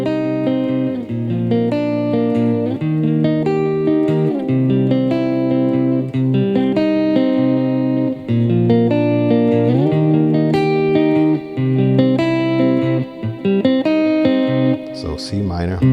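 Clean electric guitar with no distortion plays power chords from a song: a loud, steady run of strummed chord changes with ringing harmonics.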